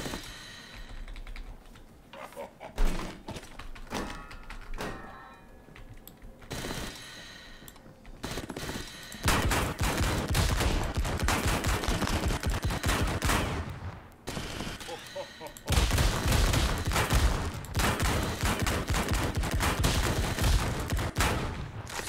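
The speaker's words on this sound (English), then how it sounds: "You want to see what a critical spot can do on a good shotgun?" A shotgun in a video game fires repeatedly in sharp, loud bursts that come in dense clusters, with brief pauses between volleys and a few quiet stretches.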